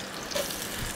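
Onions dropped into a hot pan with ginger, a soft close sizzle and faint watery crackle over about a second, with no talk.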